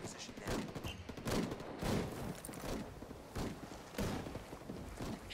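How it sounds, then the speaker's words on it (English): Gunfire in the video game Ghost Recon Wildlands, scattered, fairly faint shots arriving in irregular bursts over a low background rumble. "Taking fire."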